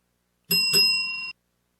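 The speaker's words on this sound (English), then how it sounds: "that was the double bell. That means my shift is coming to an end" A bright bell rings twice in quick succession, a crisp double ding with a short sustained ring, alone in a quiet room.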